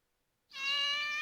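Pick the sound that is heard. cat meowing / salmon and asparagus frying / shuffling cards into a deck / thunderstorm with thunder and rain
cat meowing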